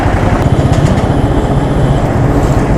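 A 2016 Royal Enfield Classic 350 motorcycle on the move, its engine thumping steadily and loudly up close with continuous rumble and wind throughout, no talking.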